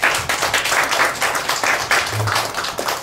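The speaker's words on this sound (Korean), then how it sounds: "여러분들 박수 한번 쳐주세요." An audience at a lecture gives steady applause, a dense wash of clapping that carries on evenly for a few seconds with a faint voice underneath.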